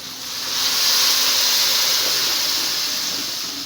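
Tomatoes dropped into a hot pan for a home-cooked bean dish hiss and sizzle loudly, a steady close-up frying sound that swells quickly and holds without talk.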